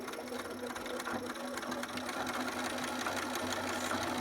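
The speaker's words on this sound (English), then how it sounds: "we'll go ahead and get that sewn. I also do this with a zigzag as well" Sewing machine running steadily, stitching a zigzag seam on upcycled fabric for newborn prop pants; a continuous fast mechanical whirr and patter, close and even throughout.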